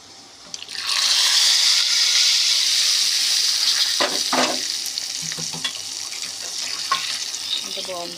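Hot popu tempering poured into raw tamarind pachi pulusu bursts into a loud sizzle that starts suddenly, then settles into steady crackling and frying with a few clinks and stirring sounds.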